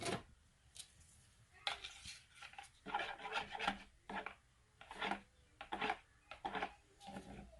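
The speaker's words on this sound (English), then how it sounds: "So I'm just going to whisk now." Hand whisk scraping and tapping through room-temperature soap batter with added fragrance in a bowl, a series of short irregular rasping bursts, close and fairly quiet, with no talking.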